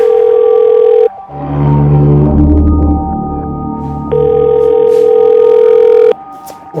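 An unanswered phone call in a crime drama episode sounds as a loud, steady electronic ringback tone in long bursts, broken by a swelling dramatic musical chord between them.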